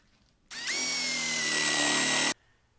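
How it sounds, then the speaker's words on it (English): A power drill bores down into a wooden table leg for a three-legged round coffee table, a steady loud whine that starts abruptly, holds for nearly two seconds with a slight pitch rise, then cuts off cleanly. "I'm going to drill down into the leg about 1 inch"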